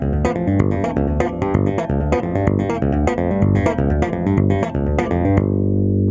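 Bass guitar riff played with left-hand hammer-ons and right-hand tapping, a steady stream of eighth notes with a grooving, bright tone, loud and close, alone without talk.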